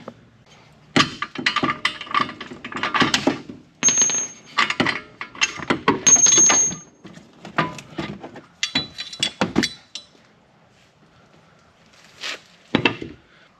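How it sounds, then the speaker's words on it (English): Bolts and a front strut come out of a 2013-2020 Ford Fusion's suspension, making a close run of sharp metallic clinks, knocks and scraping clatter in uneven bursts, then a pause before a couple of final knocks. "With the other arm, you're going to pull out these bolts, and then you're going to pull it out this way."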